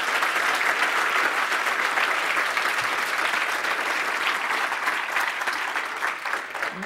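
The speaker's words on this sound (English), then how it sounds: "audience, applause first." A conference audience applauds after a hacking talk, a dense, steady clatter of many hands clapping throughout, tapering slightly toward the end.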